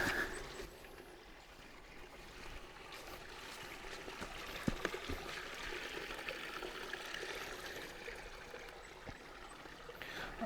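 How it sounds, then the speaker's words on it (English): River flowing through a forest, a quiet, steady rushing and trickling of water heard from a short distance, continuous with slight swells in loudness. "maybe we should follow this river to see where it leads"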